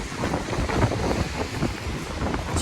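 Strong wind in a Moscow snowstorm roars steadily into the microphone, a dense, continuous rush with gusty buffeting throughout and no voices.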